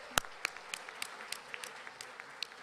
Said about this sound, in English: could we have a huge round of applause for the birthday boy?